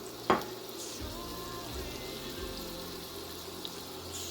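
Carrots soften in avocado oil in a pan, giving a quiet, even sizzle with a sharp clack near the start and soft stirring scrapes throughout.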